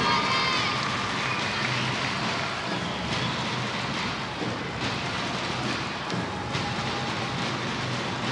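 Audience applause for a school percussion and dance group in an arena before an Italy–Macedonia futsal World Cup qualifier: a dense, steady wash of clapping from a large crowd that holds at an even level throughout.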